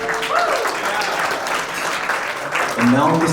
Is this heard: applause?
yes